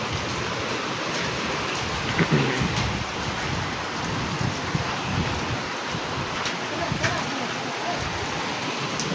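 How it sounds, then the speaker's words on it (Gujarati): Heavy rain with hailstones pours steadily during an unseasonal summer storm in a Gujarat village, a dense constant hiss. A faint rumble of thunder may be under it. "કરાનો વરસાદ થઈ ગયો છે હાલરિયા ગામમાં. ભર ઉનાળે વરસાદ થયો છે."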